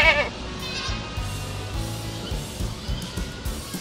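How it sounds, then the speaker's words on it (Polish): Goats penned on a farm bleat, with one sharp, close call at the start followed by lower, murmuring bleats and farmyard noise throughout. "Kozy siedzą w swoich zagrodach."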